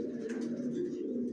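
Young racing pigeons coo steadily at a home loft, a continuous low throaty murmur from several birds close by, with no pauses and no voices over it.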